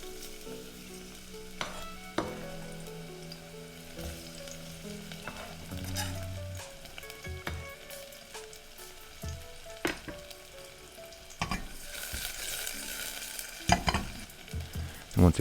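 Shallots and garlic frying in warm oil in a pan for rice pilaf, a steady sizzle with scattered clinks and scrapes of stirring that grow louder and busier near the end, no speech.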